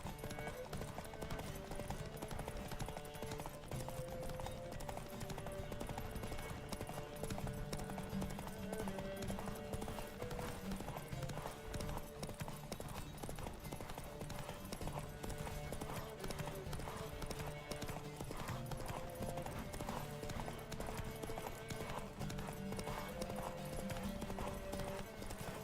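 Steady clip-clop of a horse's hooves galloping through a race in The Witcher 3: Wild Hunt, continuous and rhythmic over game ambience for the whole stretch.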